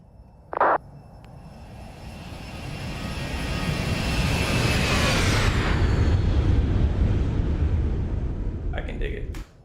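A Boeing 737 jet passes by in X-Plane 12, its engine roar swelling to a loud peak with a whining tone that falls in pitch as it passes, then fades, with a brief voice near the start.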